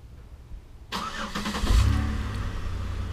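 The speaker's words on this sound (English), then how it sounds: "This bad boy's got remote start." Quiet stillness, then an Impala 9C1 engine cranks by remote start and catches, revving up briefly before settling into a steady idle, heard from nearby.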